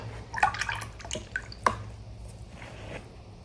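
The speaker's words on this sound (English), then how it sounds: "into that green I will splatter some reddish color" Reddish watercolor paint splattered onto a green area of a hydrangea painting, heard as a few close, wet spattering taps and drips with quiet gaps between.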